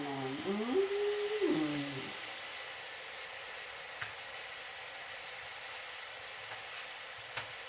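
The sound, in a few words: gumbo sizzling in pot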